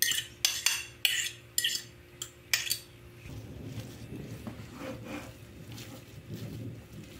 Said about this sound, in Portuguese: Agora eu vou misturar aqui com a manteiga.